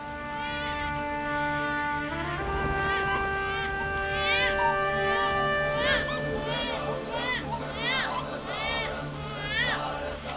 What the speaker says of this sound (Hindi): बालक के रोने की आवाज।